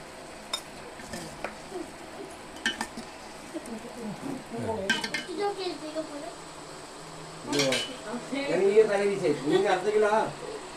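Bowls and spoons clink and rattle in scattered bursts as food is served at home, with people chatting throughout.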